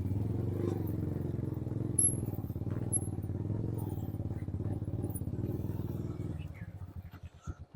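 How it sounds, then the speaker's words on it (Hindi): An Apache stunt motorcycle holds a wheelie controlled by taps of the foot brake, giving a steady, loud engine drone with rapid low pulsing that fades near the end into separate clatters. "फुट ब्रेक देखिए आप, इनका टैप टैप चल रहा है पूरा"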